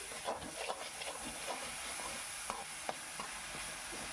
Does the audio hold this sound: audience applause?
no